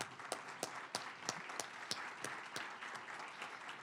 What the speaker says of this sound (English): We need to clap for Christy.